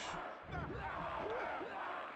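A roaring wrestling arena crowd from WWF Attitude on the Nintendo 64 keeps up a continuous wash of cheering and shouting at moderate loudness, with no commentary over it.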